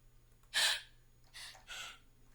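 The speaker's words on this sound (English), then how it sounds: "That's like breathing sounds." A breathy vocal sample triggered in Native Instruments Maschine 3: one sharp gasping inhale followed by two softer breaths, close and clean with no talk.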